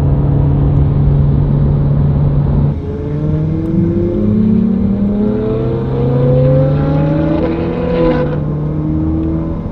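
Ferrari engine revving hard under acceleration on a road, a loud, close, rising drone whose pitch climbs steadily through a gear before dropping and climbing again.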